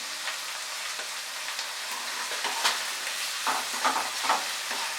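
Chopped tomatoes with salt are stirred in a pan over medium heat, giving a continuous sizzle broken by repeated scraping strokes of a spoon.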